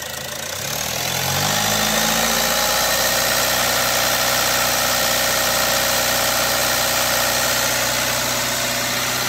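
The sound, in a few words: car engine revving while running No Leaky additive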